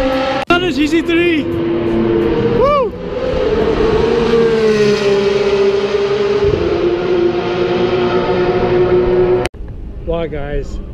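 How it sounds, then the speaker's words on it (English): GT3 race cars and drift cars at Circuit of the Americas in Austin scream past at close range, loud engine notes rising and falling through gear changes for most of the stretch, with people talking in the gaps. "Especially if you want to hear the cars."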